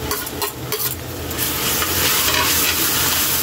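Crushed onion hits a pan of browned garlic, with a few stirring scrapes before the sizzle swells into a loud, dense, continuous frying hiss.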